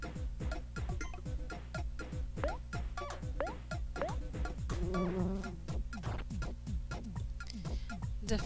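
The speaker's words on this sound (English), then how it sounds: "Is that a bee or a wasp? it's a wasp!" Insect buzzing of a wasp or flies in the video game OMORI, a steady faint drone running alongside dense repeated ticking game effects, with no talk.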